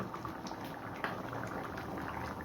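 A pot of rajma (kidney bean dal) bubbles at a steady rolling boil, giving a dense continuous burble of popping bubbles heard close, with no speech over it.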